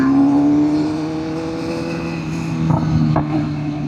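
A full-carbon BMW S1000RR with Akrapovic headers drones close by, its engine note easing from a strong, steady tone, then swelling again as a couple of short, sharp exhaust pops crackle through.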